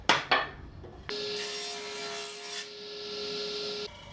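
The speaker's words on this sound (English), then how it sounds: "I've just cut a small piece off on the bandsaw to see where I'm at" Bandsaw cutting a small piece of hardwood: two quick knocks, then the blade whines through the wood in a steady, close cut lasting a few seconds before stopping.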